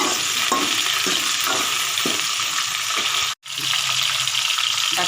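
Curry leaves go into hot oil with onion and garlic for a drumstick tamarind kuzhambu, giving a strong continuous sizzle with rhythmic stirring scrapes, broken by a brief silent gap before the frying resumes.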